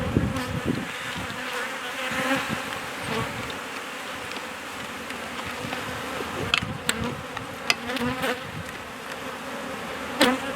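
Honey bees buzz steadily in an open hive as frames are handled, a close, dense drone with occasional single bees zipping past and faint handling knocks.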